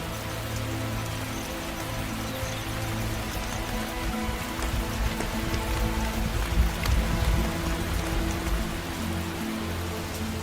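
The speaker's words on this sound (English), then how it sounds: "As is so often the case, thunderstorms begin to develop in the evening." Steady rain from an evening thunderstorm in Africa showers down on surfaces, a dense close patter with drips, continuous and fairly loud throughout.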